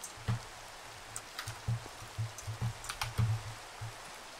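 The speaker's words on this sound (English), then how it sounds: "Sorry for the intense clicking" Rapid, uneven clicking of a computer mouse and keyboard during a heated Minecraft-style survival game session, close and fairly loud, in irregular bursts with no talking.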